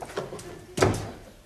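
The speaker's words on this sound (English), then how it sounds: "Close the door." A door closes indoors in an office with a single firm thud, preceded by faint scraping movement, close and moderately loud.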